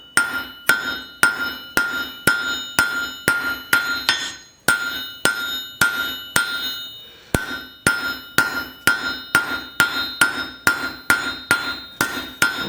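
A blacksmith's hammer strikes hot steel on an anvil, drawing down a bolt-jaw tong. Two dozen or so sharp, ringing blows fall in a steady, close cadence, with one short pause partway through.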